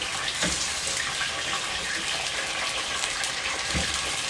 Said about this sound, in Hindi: ऑयल मेरा गर्म है तो छन की आवाज़ आनी चाहिए